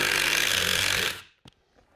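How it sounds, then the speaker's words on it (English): A power tool runs loudly on a bolt holding a rail under a wooden piece in a garage, then cuts off abruptly, followed by a single short clack and quiet. "We're gonna have to unscrew."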